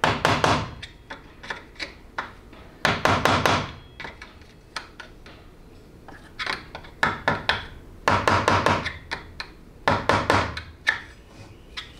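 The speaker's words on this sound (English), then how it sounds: "you want to go at it with a screwdriver and a hammer, just to make doubly sure it's truly in there" Sharp metal-on-metal hammer strikes on a screwdriver, seating a part during 6L80 transmission assembly, come in quick bursts with short pauses between, close and loud, with no talking.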